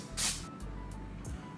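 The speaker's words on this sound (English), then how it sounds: "This is just some spray oil." A cooking oil spray can hisses onto a pizza pan in a kitchen while low-calorie pizzas are made: one long close burst, then shorter spritzes, with a low background hum.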